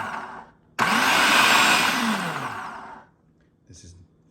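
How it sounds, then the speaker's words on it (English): An empty Braun food processor motor runs on the pulse setting, a loud whirring burst of about two seconds that winds down, followed by a brief second tap. "just for the sound test, I'm not going to put any food in here, just so you can hear the motor itself"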